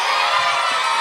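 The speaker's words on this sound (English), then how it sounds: "give us a cheer if you think Team Truster won on the jokes." Live show audience cheering and whooping together in a short, loud, dense burst of crowd noise.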